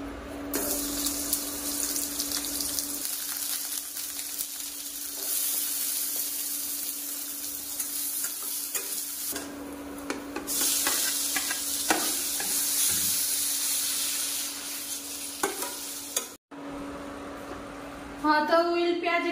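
Chopped onions frying in oil in a kadai give a steady loud sizzle throughout, with a continuous hum, brief dips and stirring scrapes, and one short break near the end.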